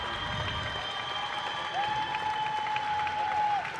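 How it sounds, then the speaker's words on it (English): A stadium crowd claps and cheers after the World's Strongest Woman strongman final, a broad roar at moderate distance, with a tonal whistle-like sound rising over it partway through. "The stadium is full of cheers, claps."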